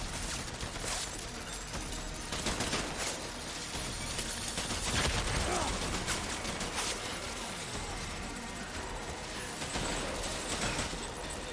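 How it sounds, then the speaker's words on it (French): Gunfire from hematic bullets in the video game Death Stranding, a dense, sustained crackle of rapid shots and bursts running steadily throughout at fairly even loudness. "Je vais tirer des balles hématiques"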